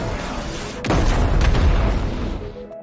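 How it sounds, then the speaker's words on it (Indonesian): A loud booming burst of gunfire erupts suddenly, followed by a rumbling echo that fades away. "Adu tembak pun terjadi di kedua belah pihak"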